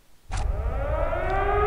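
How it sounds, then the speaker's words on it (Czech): Siren in a Doom custom map, starting abruptly and then holding a loud, steady wail with slowly rising tones, heard alone with no talk. "Houká nám siréna."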